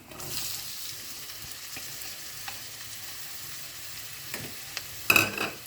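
Cumin, fennel, sliced big onion and dried red chillies sauté in oil, a steady close sizzle with occasional stirring clicks and a louder crackling burst near the end.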